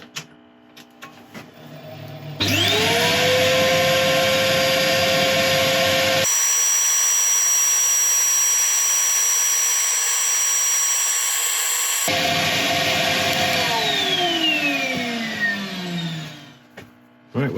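A Swedish torch log with epoxy resin spins on a woodturning lathe while it is sanded, giving a loud, sustained whir and rasp. The motor spins up, then winds down at the end.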